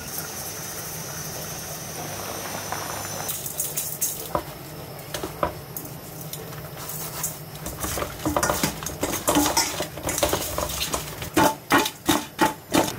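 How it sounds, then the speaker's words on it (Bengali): Eggplant slices fry in a new frying pan with a soft sizzle beneath clattering utensils. Repeated scraping and tapping grows busier and more rhythmic toward the end. "এই ফ্রাই প্যানে বেগুন চাকটা করি।"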